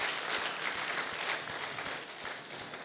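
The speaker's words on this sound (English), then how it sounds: "Please, another round of applause." Sustained audience applause at a corporate success event, a dense wash of many hands clapping steadily and fairly close, with no talk over it.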